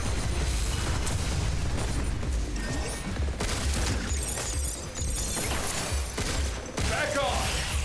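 A grenade explodes in the video game Pragmata. Loud blasts and shattering bursts come through among continuous combat noise and music, with several sharp hits spread across the clip.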